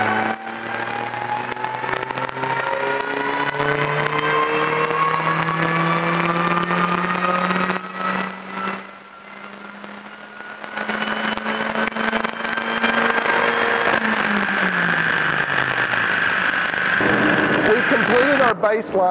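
A supercharged MINI Cooper S engine revs on a dyno in a long rising pull, a loud steady drone climbing in pitch with a whining supercharger, briefly easing mid-run before peaking and dropping off.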